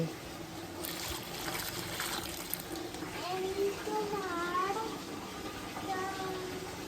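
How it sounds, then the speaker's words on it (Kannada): Water is poured onto a potted plant during a daily household routine, making a gentle trickling splash under nearby voices, with a cat-like meow in the background. "ನೀರು ಹಾಕ್ತಾ ಇದ್ದಿ ಗಿಡಕ್ಕೆ"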